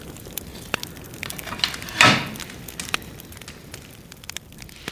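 A small fire burns in a cooktop, giving sparse crackles and pops with one brief louder flare, quiet and close, with no talking.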